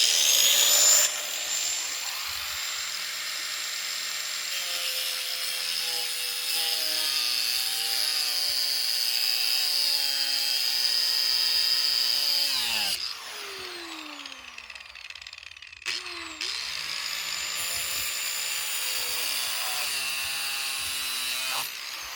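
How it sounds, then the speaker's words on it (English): An angle grinder with a cutoff wheel cuts rebar for a concrete foundation, a loud sustained high whine with shifting pitch, briefly dropping out and spinning down before cutting again nearby. "I'm just using an angle grinder with a cutoff wheel on it, and it does a pretty good job of cutting it quickly."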